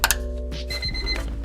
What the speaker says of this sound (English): And you can hear it instantly starts beeping